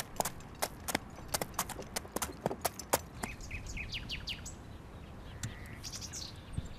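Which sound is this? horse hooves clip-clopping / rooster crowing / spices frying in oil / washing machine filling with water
horse hooves clip-clopping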